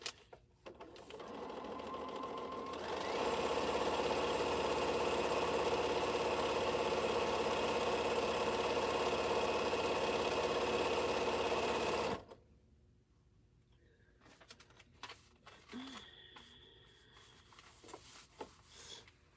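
A sewing machine stitching quilt string blocks runs in one steady, loud whirring burst for about nine seconds, then stops. Quiet fabric handling and small clicks follow.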